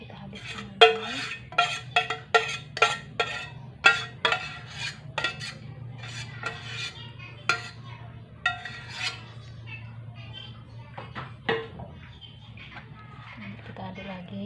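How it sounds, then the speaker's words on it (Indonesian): Pumpkin dough for Acehnese timpan being stirred in a bowl, with repeated clinks and scrapes of a utensil in an irregular rhythm, close and fairly clear over a low steady hum, with birds faint in the background. "Kita aduk lagi."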